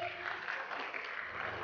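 Audience applause at a crowded Indonesian gathering celebrating the Persipura champions, a steady wash of clapping throughout the short stretch.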